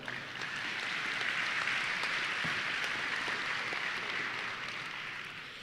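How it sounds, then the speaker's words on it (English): An audience at a Texas DOT safety banquet gives steady, moderately loud applause for sign crew supervisor Sammy Mosier, honored for 22 years, the clapping holding even and tapering slightly at the end. "All right, let's give Sammy a round of applause."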